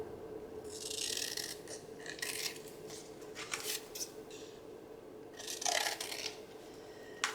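Scissors trim a folded paper wallet envelope in several short bursts of crisp snipping and rustling. The cuts are close and fairly quiet, with brief pauses between them.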